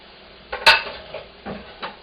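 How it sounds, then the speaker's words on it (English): Onions cooking in a pan for gyudon, with a few sharp clinks and scrapes of a utensil against the pan over a faint, quiet background, the strongest knock coming early. "And we're going to also add our onions in there so that they can get nice and soft."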